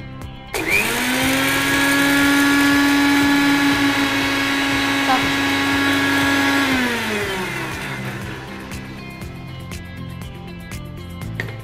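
Mixer grinder whirs at high speed, grinding dry ingredients into powder for a vermicelli idli batter, a loud steady motor whine that holds for several seconds before winding down, with faint voices around it.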